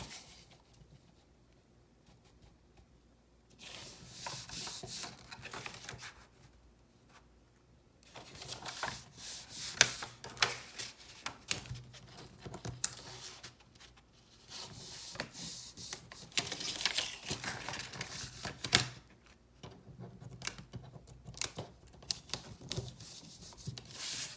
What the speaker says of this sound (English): So go ahead and fold where you're supposed to, where your score marks are supposed to go.